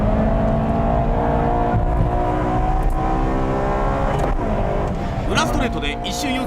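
Honda Integra Type R DC2 engines, 96 and 98 spec, rev hard on a race track, with a sustained high-pitched engine drone near and loud under continuous talking, rising toward the end with a brief squeal.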